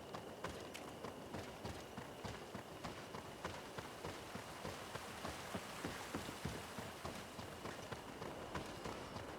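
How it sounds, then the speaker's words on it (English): Steady rain pattering down in the GreedFall video game, a dense even patter of drops with soft rhythmic thumps underneath, faint and continuous throughout. "It's raining there."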